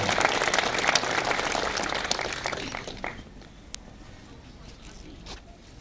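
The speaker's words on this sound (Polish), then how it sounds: "Duże brawa, naprawdę" Applause from the crowd at the opening of a medical centre, dense clapping for about three seconds that thins out and fades into quiet room tone with a few scattered claps.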